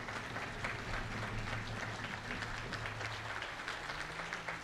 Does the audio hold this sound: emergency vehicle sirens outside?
no